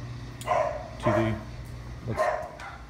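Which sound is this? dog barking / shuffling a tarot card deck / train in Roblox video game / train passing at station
dog barking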